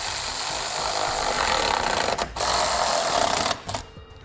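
A power driver tightens AeroTread running board mounting bolts on a vehicle, giving a close, steady whirring buzz that cuts out briefly, resumes, then stops near the end.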